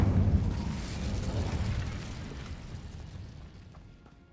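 In Hogwarts Legacy, an Incendio fire spell goes off with a deep, rumbling whoosh that starts loud and close, then slowly fades over several seconds.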